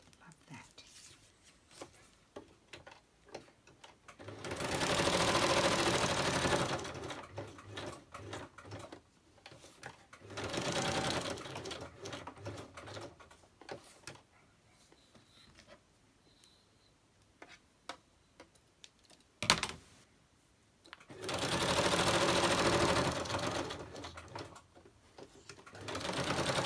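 A sewing machine stitches fabric scraps in three separate runs of rapid, close mechanical whirring, with quiet ticks and handling noises between the bursts.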